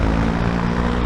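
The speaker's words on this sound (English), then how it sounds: "but you can hear the wind coming off these." Wind roars past a peaked helmet on a moving KTM 990 Duke motorcycle, a dense, steady rush blending with engine drone throughout the short stretch.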